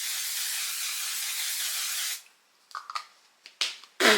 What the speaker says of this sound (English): Okay, I'm gonna set it. One size setting spray, the best for summer.